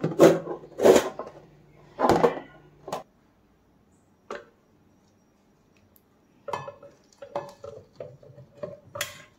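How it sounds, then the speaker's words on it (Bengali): A spatula mixing ingredients, including green chilies, in a pan, with bursts of clattering scrapes and clinks separated by quiet pauses, then lighter, scattered taps. "প্যাচুলা দিয়ে ভালোভাবে মিক্স আপ করে নিব।"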